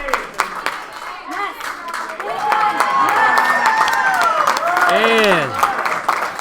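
Crowd at a Detroit weightlifting qualifier cheering and clapping loudly, a sustained roar of voices and applause rising in the middle, with a brief spoken word at the start.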